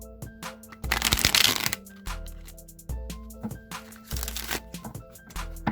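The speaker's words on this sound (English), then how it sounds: "Now I'm going to shuffle the Rider-Waite deck" A Rider-Waite tarot deck being shuffled by hand close up: repeated bursts of riffling card flutter separated by soft taps and short pauses.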